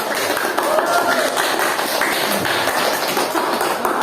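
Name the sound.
classroom applause for a presenting group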